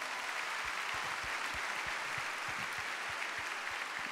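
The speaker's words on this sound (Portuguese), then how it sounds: "podem aplaudir agora também." Applause from a studio audience on a Christian television talk programme, mostly women clapping at a pastor's prompt; a steady, dense wash of many hands fills the whole stretch without a break.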